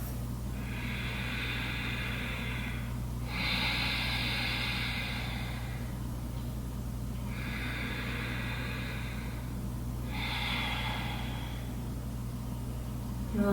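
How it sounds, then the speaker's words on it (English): Ujjayi yoga breathing, slow audible breaths through a constricted throat with lips sealed, four long hissing breaths in an even rhythm, close and soft over a low steady hum. "Let's begin to connect to the audible quality of your breath."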